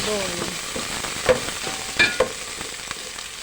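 Onions and other food are stirred in a sizzling frying pan, with a steady close hiss of frying broken by a few sharp scrapes and knocks of the spoon against the pan.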